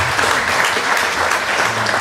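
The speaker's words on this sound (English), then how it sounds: "Let us give them a round of applause again." Dense audience applause for speakers at a forum on Islamic law in Malaysia, steady and loud throughout with no talk.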